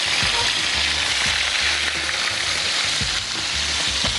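Garlic sizzling and frying in a pan, a loud continuous crackle with occasional stirring knocks, close and steady.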